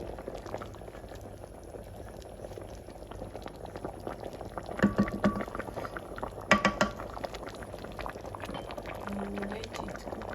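Chicken soup bubbles steadily in a pot, a soft continuous boil with brief clinks and louder bubbling bursts midway, no one speaking.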